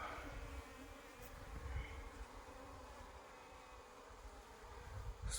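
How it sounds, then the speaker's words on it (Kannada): Honey bees buzzing around a hive while comb honey is cut out. A soft, steady drone hums throughout, with individual bees passing close now and then. "ಜೇನುಹುಳ ಕಚ್ಚಿತು."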